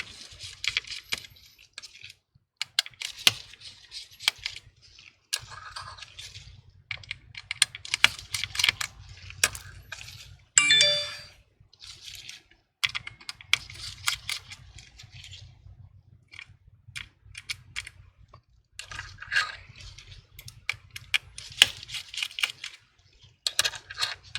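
A Y0.6 tri-point screwdriver works on the small screws of an iPhone 7 during a repair, giving close, quiet clusters of tiny metallic clicks and scrapes with brief pauses and one louder clatter midway.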